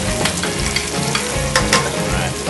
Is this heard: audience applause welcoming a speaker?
no